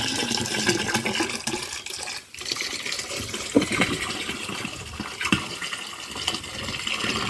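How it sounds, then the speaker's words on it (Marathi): Water is poured and gushes into a container while a slurry for a chilli crop is being made, an uneven splashing rush with brief dips and no talking. "टाकू पाणी"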